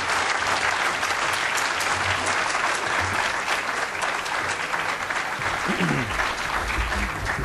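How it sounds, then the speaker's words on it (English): Sustained audience applause for Illinois Governor Quinn and Comptroller Hynes at a health care campaign event, a steady dense wash of clapping lasting several seconds with faint voices beneath. "Let's give Governor Quinn and Comptroller Hynes another round of applause."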